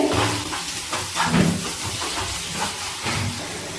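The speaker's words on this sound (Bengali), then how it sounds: "এবার এর মধ্যে দিয়ে দিচ্ছি উষ্ণ গরম জল।" Warm water poured onto hot masala cooked down in oil for a restaurant-style egg masala gives a loud, steady sizzling hiss that surges in waves and fills the clip without any voice.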